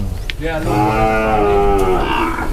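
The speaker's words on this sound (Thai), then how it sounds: "โอ้โหวัวเยอะครับวัวเยอะ" Cattle moo loudly and close at a cattle and buffalo market in Wang Prachop, Tak, Thailand: one long, drawn-out bellow that swells and holds for about two seconds over a busy crowd background.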